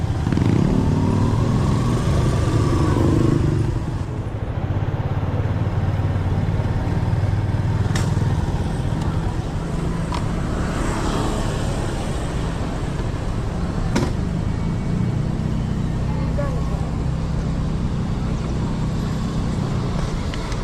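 Steady road traffic rumbles close by, with engine drone and passing vehicles forming a continuous loud wash and a few faint clicks on top.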